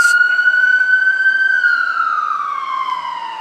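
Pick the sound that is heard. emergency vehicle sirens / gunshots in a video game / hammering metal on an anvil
emergency vehicle sirens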